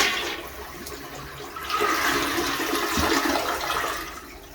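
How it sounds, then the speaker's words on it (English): A newly installed American Standard toilet flushes nearby, a steady rush of water swelling after the first second and churning on through the end with no voices. "Let's do the inaugural flush and see what happens."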